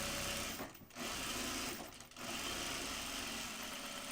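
A sewing machine runs steadily, stitching a line along the flap of a handmade bag, with two brief pauses breaking the otherwise continuous close whir.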